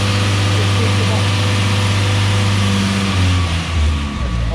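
The truck engine on a Spartan Urban Warrior hydro jetter runs loud and close with a steady low drone whose pitch drops toward the end as it winds down, with a voice speaking over it.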